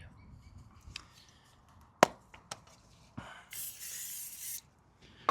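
Brake cleaner from an aerosol can sprayed onto a mountain bike wheel gives one steady hiss lasting about a second, with scattered clicks and handling knocks around it in a quiet room.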